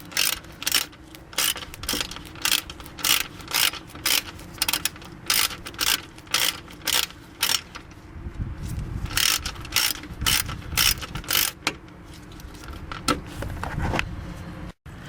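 Rapid ratcheting clicks come in repeated bursts as the cooling fan bolts are tightened onto a new radiator on a 2001 Dodge Caravan with a 3.3L V6, heard close up with brief pauses between runs.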